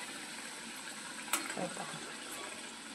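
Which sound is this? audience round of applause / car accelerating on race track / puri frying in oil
puri frying in oil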